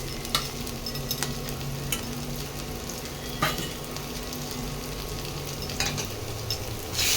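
Ginger-garlic paste sizzles with browned onions in hot oil, producing a continuous close crackling fry punctuated by occasional spatters and soft stirring clicks, with no voices.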